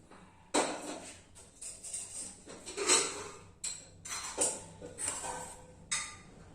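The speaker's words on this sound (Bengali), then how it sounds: "আমি এখন কিছু কেটে নিচ্ছি, এটা একটা গোটা একটা টমেটো" A knife cutting a whole tomato on a board: a series of separate sharp knocks and slicing taps with short quiet gaps between them, fairly close and moderately loud.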